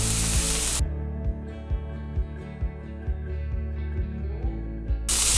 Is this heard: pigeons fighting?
no